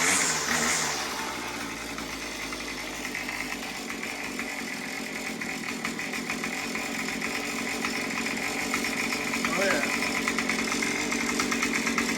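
Repaired small engine idling steadily after being started, a close buzzing mechanical drone with a brief sharper burst at the start, holding an even rhythm throughout with no one talking.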